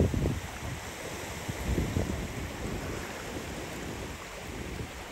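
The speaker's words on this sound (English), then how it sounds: "And the waves going away from me." Ocean waves at a beach with clear water, a steady broad wash of surf with some rumbling swells near the start and gusty wind noise on the microphone, no voices.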